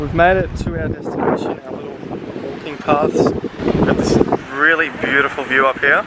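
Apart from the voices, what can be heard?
wind blowing on a hilltop above a beach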